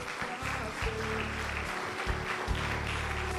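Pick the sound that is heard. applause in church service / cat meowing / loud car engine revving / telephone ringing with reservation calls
applause in church service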